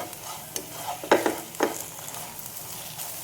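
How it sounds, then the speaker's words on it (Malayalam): Jaggery melting in a hot pan while being stirred for a banana, coconut and rum recipe: a faint soft sizzle with a few brief scraping stirs close by, with no talking. "അപ്പോൾ ഇതിനകത്ത് നമുക്ക് കുറച്ച് ശർക്കര ഇട്ട് കൊടുക്കാം. അതൊന്ന് മെൽറ്റ് ആവട്ടെ കേട്ടോ."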